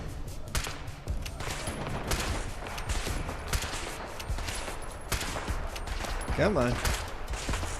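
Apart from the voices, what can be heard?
Lewis gun firing in the video game Fallout London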